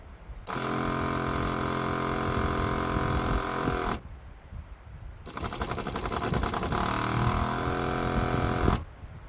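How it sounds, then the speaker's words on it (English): Old water pump in a teardrop trailer cabinet, heard from about three feet away: two loud buzzing, droning runs, one stopping abruptly and a second rougher, rattling run starting after a short pause. "This is what our old pump sounds like from a distance of about uh, three feet from the cabinet"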